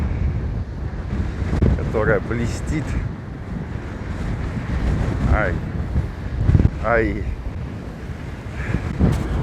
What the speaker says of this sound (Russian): Обожаю волны, обожаю шторм.